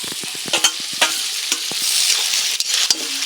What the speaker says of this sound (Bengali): এখন আমি দিয়ে দেবো এই গাজর আর এই আলুগুলো